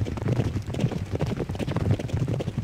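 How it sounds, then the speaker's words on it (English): Horses gallop in a Derby Owners Club arcade racing game, a dense, rapid drumming of hoofbeats running continuously and fairly loud. "All the horses are running from the first through the second turn."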